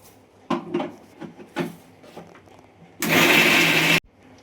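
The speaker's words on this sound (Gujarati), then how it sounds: "આ મિક્સર જારમાં આપણે અઢીસો આંબળા આપણે ભરી દીધા છે હવે આને ક્રશ કરવાના છે" A mixer grinder jar packed with about 250 amla, Indian gooseberries, roars loudly for a one-second crushing burst after several clunks and knocks of the jar being handled.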